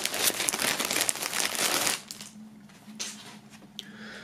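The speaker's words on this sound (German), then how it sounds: "Machen wir mal aus der Folie." A T-shirt being pulled out of its plastic film from a music box-set: loud, close crinkling and rustling of the plastic for about two seconds, then quieter scattered crackles and handling noises.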